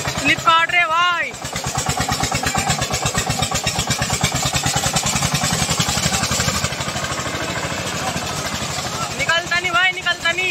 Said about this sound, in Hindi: ये चल दिया भाई ट्रैक्टर, स्टार्ट हो चुके हैं